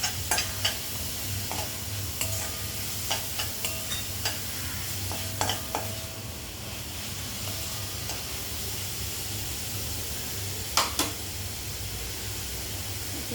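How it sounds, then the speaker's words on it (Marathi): Onion sautéing in a pan for a ridge gourd curry, a steady close sizzle with scattered stirring scrapes and clinks, busier early and again near the end. "आता हे थोडा कांदा परतून घेऊ"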